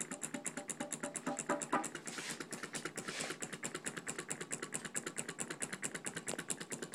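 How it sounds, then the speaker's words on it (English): A small Stirling engine fan built from a cookie tin runs steadily, giving a fast, even rhythmic ticking and whirring that stays close and moderately loud without pause. "That's a Stirling Engine Fan."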